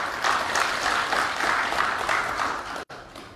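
Audience applause at a meeting of the Aliansi Borneo Bersatu with Komisi III of the Indonesian DPR, a dense, steady wash of clapping by many hands that holds loud throughout, then cuts out briefly near the end.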